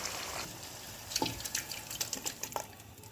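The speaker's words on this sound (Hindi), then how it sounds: "ये 2 गिलास में इसमें पानी ऐड करने लगी हूँ" Water poured from two glasses into a pressure cooker holding beef, heard as quiet splashes and trickles with a few drips in a kitchen, fairly faint and with no talking.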